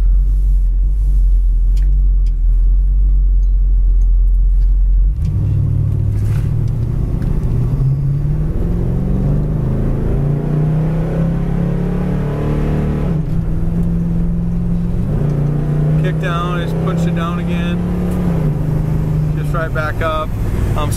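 A white 1964 Chevrolet Chevelle with a 350 turbo transmission drives along, its engine rumbling steadily after a quieter start, with a low droning note that rises and falls under occasional talk.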